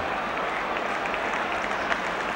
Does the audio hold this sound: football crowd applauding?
yes